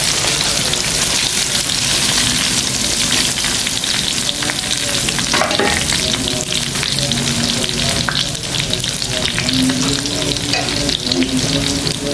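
Tempeh fries in hot oil, a dense, loud, steady sizzle with occasional stirring clatter and bubbling, continuous throughout.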